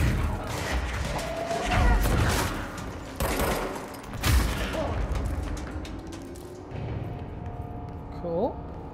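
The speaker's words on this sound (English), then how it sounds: "What are you shooting at?" Gunfire in the action video game Control comes in a few short, heavy bursts and thumps amid mechanical game sounds, while a voice talks over it at moderate level.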